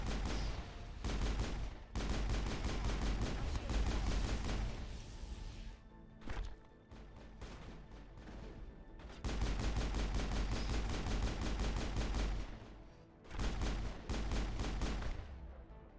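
Mass Effect combat on Insanity difficulty, with Wrex firing a shotgun, comes through as dense bursts of loud, rapid gunfire. The volleys are separated by short lulls.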